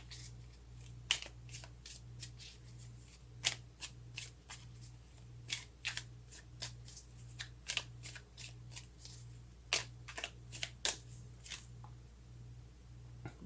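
Tarot cards are shuffled and drawn by hand at a reading table: soft, scattered riffles, flicks and slaps of cards, quiet and close over a low steady hum.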